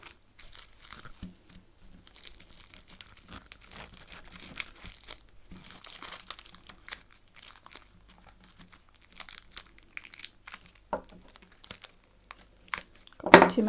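Adhesive tape crinkles and tears in irregular bursts while being handled during wiring of a Percher, fairly close and moderately loud, with a sharper crackle near the end.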